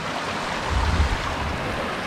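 Rapids and a waterfall in a barely explored forest stream rush in a steady, broad roar, loud and close, with a slight low surge midway and no voices.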